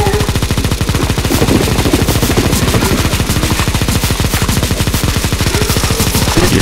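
Rapid automatic gunfire from a zombie escape mod boss fight in the video game CSGO, a loud, continuous stream of shots that holds steady throughout without pause.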